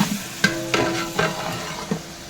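Green chilies with mint and coriander paste fry in a pan, crackling softly and steadily nearby, with a few light stirring clicks along the way.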